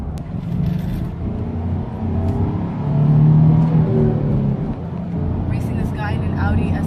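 A 2006 Nissan Frontier pickup with a manual gearbox drives along, its engine rumbling steadily and swelling briefly louder mid-way, with faint talk inside the cab.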